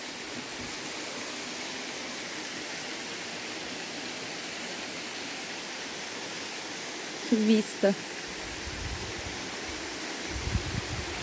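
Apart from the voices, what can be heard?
waterfall at Morro do Paxixi, Mato Grosso do Sul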